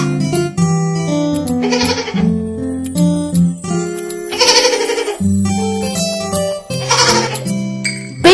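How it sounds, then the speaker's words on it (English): A baby goat bleats in three loud, wavering calls spaced a couple of seconds apart, set against a bright children's nursery-rhyme tune with light jingling. "Baby goat, baby goat"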